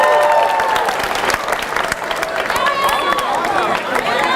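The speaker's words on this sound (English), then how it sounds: "go back to your seat to a thunderous round of applause" A theater audience at a high school grad night show claps loudly and steadily, with crowd noise, shouts and whistles mixed into the dense applause throughout.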